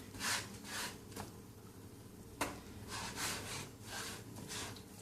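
Hands rubbing seasoning into raw steak on a board, giving soft repeated scrubbing and rubbing strokes with one sharper tap midway, close and quiet with no talk.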